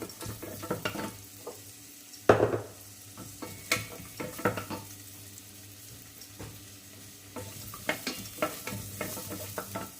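Onion stir-frying in bacon fat in a pot for spaghetti carbonara, with crackling sizzle and repeated scraping, stirring clatters of a utensil against the pot, close and uneven in bursts.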